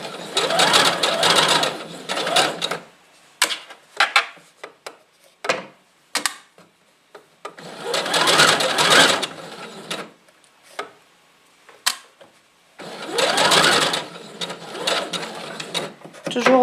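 Serger overlock machine stitching dress fabric runs in three loud, close, buzzing bursts of a few seconds each, separated by quieter gaps with clicks and handling taps.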